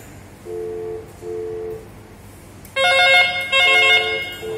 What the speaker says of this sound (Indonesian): Berdering ya.